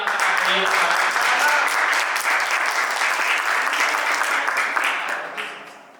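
Dense audience clapping at a Hindi kavya path poetry recital fills the hall at steady volume, then tapers off and fades near the end, with faint voices beneath.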